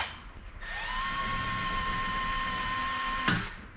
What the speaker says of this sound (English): And then you just grab it with a drill.